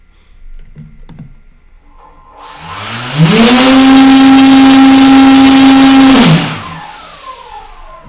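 A KDE5215XF-435 brushless electric motor driven by a VESC controller at 100 amps spins up with a rising whine, holds a loud, steady high-pitched tone for about three seconds, then winds down.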